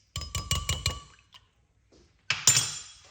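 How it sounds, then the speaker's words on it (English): Lime juice stirred into a drink in a glass: a spoon clinks rapidly against the glass in a quick burst of about five ringing taps, a short pause, then a brighter ringing clink with a lingering tail. "Add a little bit of the lime juice in it. Give it a mix."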